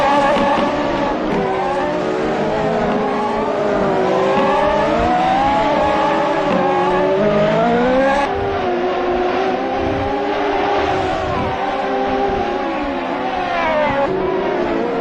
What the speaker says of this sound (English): It's amazing to see these guys and their race pace, but John Green is ever so close to Felipe Gil